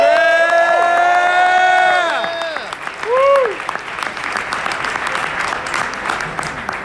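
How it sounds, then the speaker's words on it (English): At a campaign town hall in a university hall, a crowd breaks into loud applause and cheering after a voice announces it, the clapping swelling and continuing steadily for several seconds. "Give them a round of applause."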